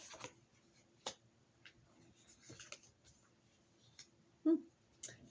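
Tarot cards get shuffled and moved around on a table in a quiet room, soft scattered clicks and light slides spaced out, close and faint.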